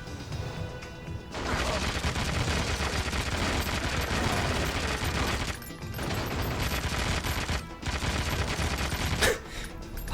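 Gunfire in the PS2 game 007: Agent im Kreuzfeuer, dense rapid automatic bursts and fusillades filling most of the moment, with brief pauses between volleys and loud, close impacts.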